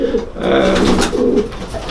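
Pigeons coo close by in a well-fed loft, soft throaty rolling calls rising and falling over a low background murmur.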